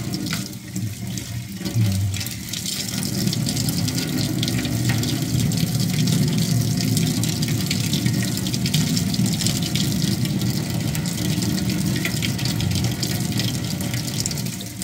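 A tap runs continuously into a sink for about fifteen seconds, a steady close splashing rush with no one speaking over it.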